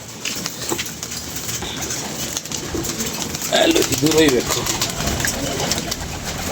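Pigeons coo in soft, rounded bursts near the middle of the clip at a pigeon-keeping spot, with someone talking throughout and light background noise.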